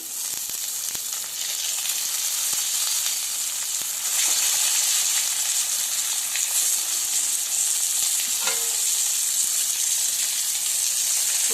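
Brinjal pieces frying in a pan with coconut, garlic and ginger for a masala vangi dish give a steady, close, loud sizzle throughout, with a few faint clicks and stirs and no talking.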